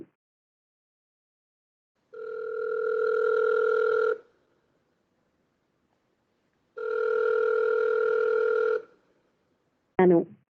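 An automated phone call's ringing sounds loud and clear in two long steady tones, each about two seconds, separated by a pause, followed by a brief burst of a voice starting at the end.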